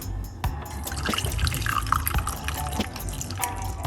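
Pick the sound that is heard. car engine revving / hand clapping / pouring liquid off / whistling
pouring liquid off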